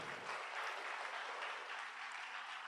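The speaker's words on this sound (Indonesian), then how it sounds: "Boleh berikan tepuk tangan yang meriah Bapak Ibu." Steady, dense applause from an audience of officials and guests at an integrity zone event, a continuous wash of clapping heard from a distance and holding evenly throughout.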